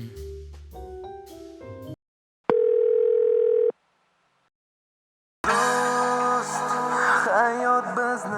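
A steady telephone dial tone sounds alone for about a second while a call is placed, with musical passages before and after it.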